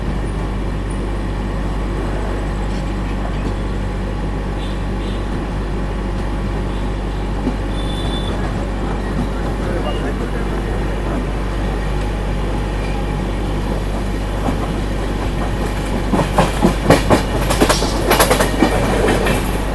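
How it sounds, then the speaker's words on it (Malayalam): An express train pulling out of Koyilandy railway station on a Kannur to Yeshwantpur run, heard from aboard as a steady loud rumble with wheel clatter and brief squeals building near the end. "അങ്ങനെ നമ്മളെ വണ്ടി കൊയിലാണ്ടി റെയിൽവേ സ്റ്റേഷനിൽ നിന്ന് എടുത്തിരിക്കുകയാണ്"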